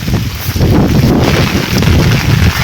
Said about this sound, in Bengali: বাতাস